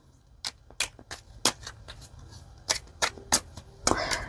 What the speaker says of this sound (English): I'm just going to give it a little quick shuffle here for you.